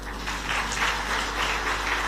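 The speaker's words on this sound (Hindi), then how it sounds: "आपने ताली तो बजाई लेकिन समझ आई बात?" Steady applause from a large audience at a Hindu religious discourse on Mahadev, a dense, even clapping that carries on for a couple of seconds without a break.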